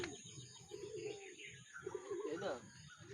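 Soft cooing and fluttering of a racing pigeon arriving at its loft after a training flight, over a steady background hum, with a person speaking quietly nearby.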